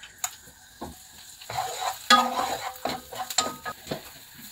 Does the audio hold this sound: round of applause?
no